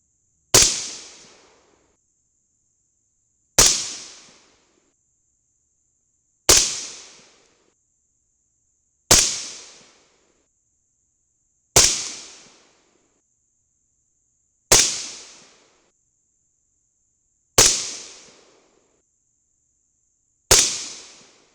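Eight sharp rifle shots firing .223 bullets with a light crimp, evenly spaced about three seconds apart, each a loud crack with a quickly fading echo, and no talk between them.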